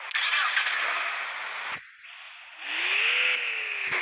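A car engine in the video game Car Simulator 2 cranks and catches, roaring loudly, then dips into a brief lull before revving back up and settling into a steady hum.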